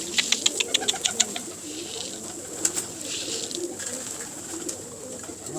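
German Falah pigeons coo in a soft, repeated series of low calls, fairly close, followed by scattered quieter cooing and faint background rustle.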